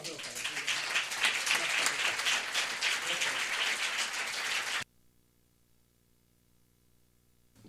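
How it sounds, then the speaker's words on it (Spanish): Audience applause for the artist Carlos Pazos at a Photoespaña 2013 talk, a dense, loud wash of many hands lasting about five seconds, then cutting off abruptly to near silence. "Un aplauso para Carlos Pazos"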